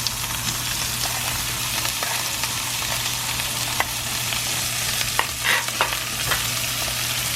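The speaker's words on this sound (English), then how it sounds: "now we'll add our butter and garlic into the pan" Butter and garlic sizzle in a frying pan beside a steak, a continuous close fry with occasional scrapes and stirring clinks and a low hum underneath, no speech.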